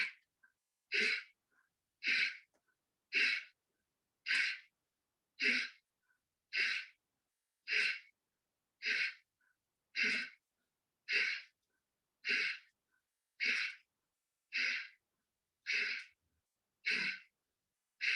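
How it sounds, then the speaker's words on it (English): Steady, rhythmic breathing during a pranayam lung-health exercise, about sixteen evenly spaced breaths in roughly eighteen seconds, each a short, clear, close rush of air with brief silence between and no talking. "breathing in and out."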